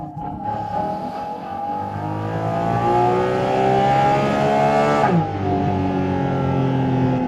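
A Porsche Cayman GT4 RS's 4-liter, 500 hp boxer engine revs hard nearby, its pitch climbing steadily. It dips briefly at a gear change, then pulls loudly again.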